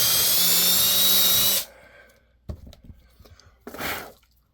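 Drilling to open up holes, a loud continuous high-pitched drill whine for about a second and a half, then stopping, followed by scattered small knocks and a brief second burst.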